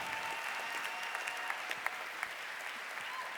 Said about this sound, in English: let's give a warm round of applause once more